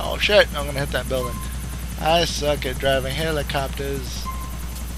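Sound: helicopter flying in the video game Grand Theft Auto 4

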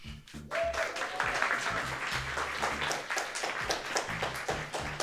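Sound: audience applause after a coffee championship presentation

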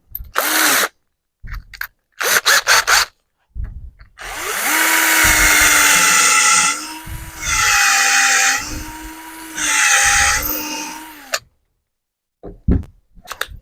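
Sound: power drill drilling wood

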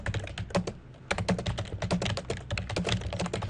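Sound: typing on a computer keyboard

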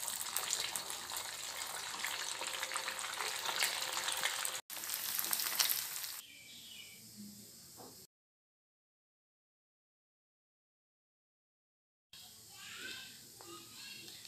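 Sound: vermicelli bonda balls frying in oil

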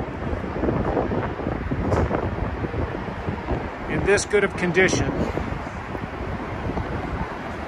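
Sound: wind

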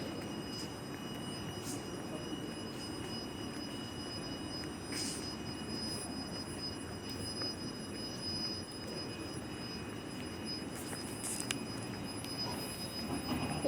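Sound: train departing from Kołobrzeg station

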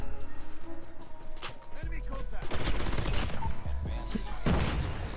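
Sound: gunfire in video game COD Mobile, HYBRID M13 build

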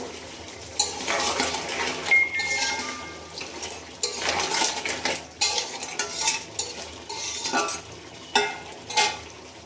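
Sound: stirring crab with spices in a pan

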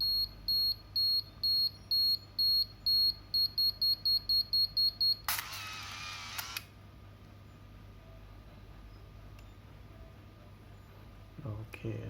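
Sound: Ricoh FF-3D AF Super film camera warning beep

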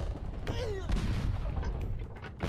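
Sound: cannon fire in the video game Rock of Ages

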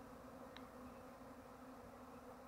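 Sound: swarm of honey bees buzzing in the air

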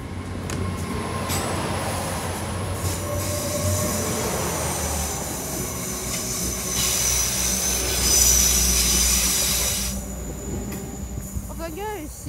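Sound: train passing through Weston-super-Mare station

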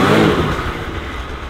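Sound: Polaris RZR engine revving while driving on snow

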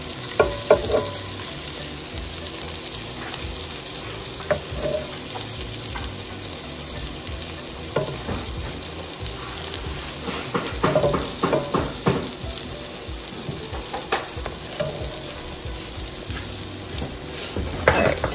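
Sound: meatballs frying and sizzling in a pan

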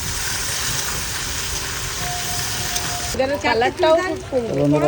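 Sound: potatoes added to hot oil for fish curry

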